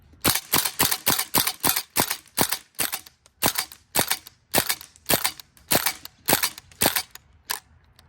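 A Tokyo Marui Saiga 12K airsoft gas gun fires steadily through a magazine, roughly twenty sharp, loud, close pops in about eight seconds with brief gaps between bursts and no talking.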